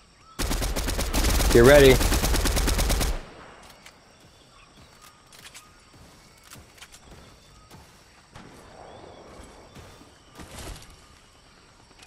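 Loud burst of rapid automatic gunfire in the Fortnite video game, lasting about three seconds, followed by quieter scattered in-game shots and movement noises while a voice speaks briefly.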